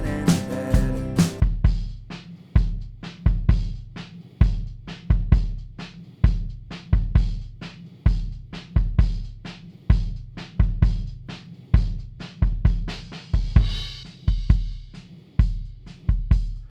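Kick drum thumping in a steady four-on-the-floor pattern within a music mix, each hit deep and slightly roomy with a short tail, alongside sparse upper percussion and no talking.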